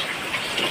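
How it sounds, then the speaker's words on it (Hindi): Heavy rain pouring down at a village home, water gushing and splashing in a steady, dense hiss with no pauses. "ये देखो बहुत तेज बारिश हो रही है"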